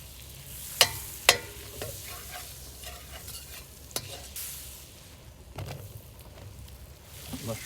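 Butter sizzles and fries steadily in a pan over a campfire while it deglazes, with a few sharp clinks of a utensil against the pan.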